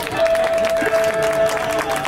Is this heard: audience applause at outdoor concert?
yes